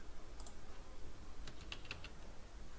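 A computer keyboard clicks a few times during a SOLIDWORKS CAD tutorial: a single tap early on, then a short cluster of quick keystrokes past the middle, all faint against a quiet background hiss.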